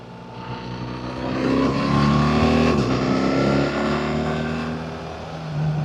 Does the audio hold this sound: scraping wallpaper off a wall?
no